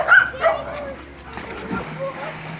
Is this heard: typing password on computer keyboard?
no